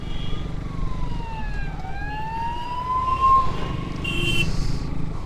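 An ambulance siren wails on a road with its pitch sweeping up and down, fairly close, over a steady rumble of passing traffic.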